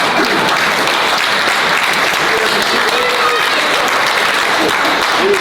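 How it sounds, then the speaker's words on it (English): Crowd at a community meeting with the county sheriff about local traffic applauds, a loud, dense, even wash of clapping throughout, with faint voices mixed in beneath. "I know you give him that round of applause"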